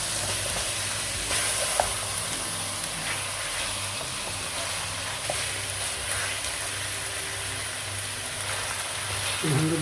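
Garlic and ginger paste fry with chicken in a pan, giving a steady, close sizzle with faint stirring scrapes. The sound holds at an even level throughout and no one speaks.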